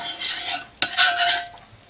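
Pressed lemons being stirred in a pot for homemade cough syrup, two bursts of close wet scraping and swishing split by a sharp clink of the spoon against the pot, with nothing else heard.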